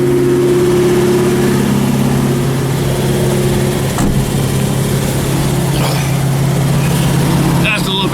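A truck engine idles steadily and loudly while it warms up, holding an even, continuous drone throughout. The engine has a new distributor cap and rotor and a metal vacuum line.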